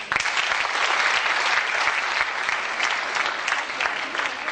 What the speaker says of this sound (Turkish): onları alkışlamak istedik